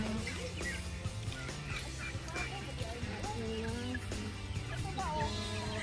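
A flock of turkeys gobbles and calls continuously over a steady outdoor background, several birds overlapping at moderate distance.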